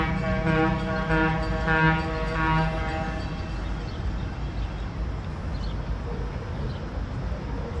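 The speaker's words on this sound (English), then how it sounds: "this is the train right there" A train moves near the Cuyahoga River in Cleveland, Ohio, a loud, steady rumble with a sustained horn-like tone in the first few seconds that fades into continuous broadband noise. No talk is heard.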